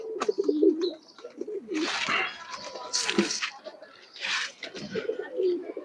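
Pigeons coo in a loft with several coops, including Bagha and green-necked breeds; soft, repeated throaty coos and rustling sound close by, mixed with some faint voices.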